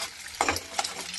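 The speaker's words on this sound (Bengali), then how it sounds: "ডিমটাকে একটু ঝুড়ো ঝুড়ো করে নিই, ঝুড়ো ঝুড়ো করে নামিয়ে নেব।" A spatula stirs and scrapes egg in a frying pan as it is scrambled into loose crumbs, with soft scraping strokes over a faint sizzle. The sound is quiet and close, with two distinct stirring scrapes.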